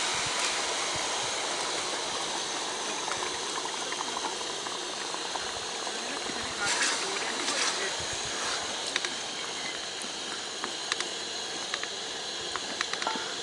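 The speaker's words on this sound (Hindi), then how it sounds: "अभी इसके अंदर अदरक लहसुन का मैं पेस्ट डालने लगा हूँ" Ginger garlic paste frying with browned onions in a pan, a steady dense sizzle and bubbling hiss throughout, with a few sharper crackles and pops later on.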